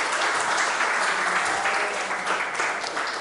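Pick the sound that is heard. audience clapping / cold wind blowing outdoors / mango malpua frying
audience clapping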